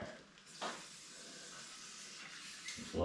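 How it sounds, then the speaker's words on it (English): Aerosol can spraying down the brake lines on a 1923 T bucket project car, a steady hissing spray lasting nearly the full stretch, with short louder bursts at the start and end. "Spray all these brake lines up"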